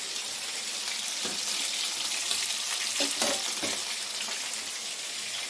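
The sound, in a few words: Bhola fish frying in a pan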